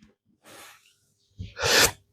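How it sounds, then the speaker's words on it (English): A single sharp sneeze right into a microphone, preceded by a quick inhaled breath, close and loud in an otherwise quiet room. "You stop sneezing into my microphone"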